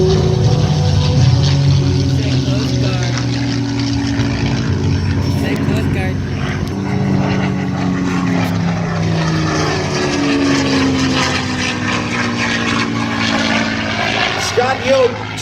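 A P-51 Mustang propeller fighter plane flies overhead with a steady, droning engine roar that swells and fades, while someone narrates over it.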